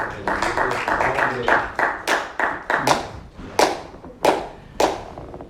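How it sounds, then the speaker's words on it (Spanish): Scattered congregation clapping in praise of Jesus Christ during a church service, a dozen or so sharp separate claps with a loose rhythm, fairly close and clear. "¿cuántos le damos un aplauso al Señor Jesucristo?"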